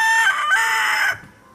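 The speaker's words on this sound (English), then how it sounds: "The rooster." A rooster crows once, loud and close, a sustained bright cock-a-doodle-doo lasting about a second before cutting off into quiet outdoor background.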